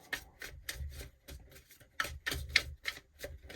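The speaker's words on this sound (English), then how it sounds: "I'm going to do two more shuffles here" Tarot cards are shuffled close up, giving a quiet, rapid series of papery riffles and taps in irregular bursts with no talking.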